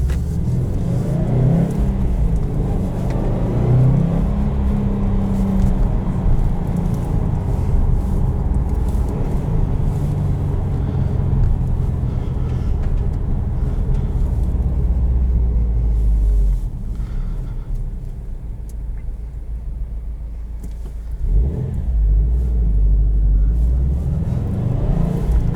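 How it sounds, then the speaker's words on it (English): A 2020 Subaru WRX STI engine rumbles and revs while driving, heard from inside the car, its deep note rising through the gears, easing off midway, then climbing again as it pulls. "It definitely likes revs when it's setting off."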